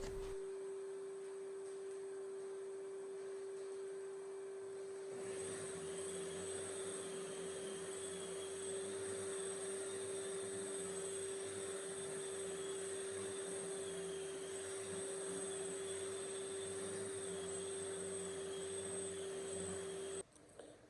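A shop vacuum fitted with a cyclone dust separator switches on and runs as a loud, steady whine with a sustained tonal hum. It continues unbroken for the rest of the stretch and then cuts off at the very end.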